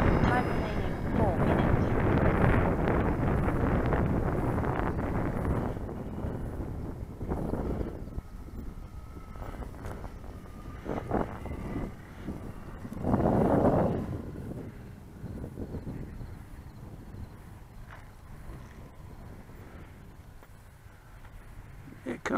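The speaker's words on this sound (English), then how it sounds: "You see the wind shaking and making now. It's blowing, but not too fast yet." Wind buffets the microphone outdoors at a radio-control flying field where an E-Flite Apprentice S 15e model plane is flown, a heavy rumbling roar easing and returning in gusts, with someone talking intermittently over it.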